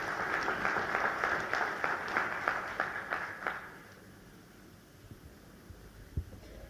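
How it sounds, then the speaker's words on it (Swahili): Applause for Minister Ndumbaro at a hotel launch ceremony attended by President Samia Suluhu Hassan: steady rhythmic clapping from the gathered crowd for about four seconds, moderately distant, then fading into quiet room hum. "Makofi kwa Mheshimiwa Ndumbaro."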